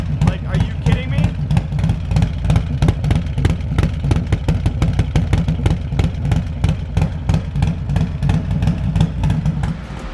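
Harley-Davidson motorcycle with a 128 kit engine and a choppy cam, loud and close, its lumpy idle and revs pulsing steadily throughout without letup.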